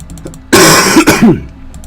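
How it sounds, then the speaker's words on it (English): One close, harsh cough followed by rough throat clearing, loud and brief, with quiet surroundings before and after. "I've got a bit of a cough on at the moment."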